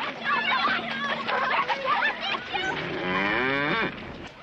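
An old cow on a Western ranch gives a drawn-out moo close by, preceded by some chuckling.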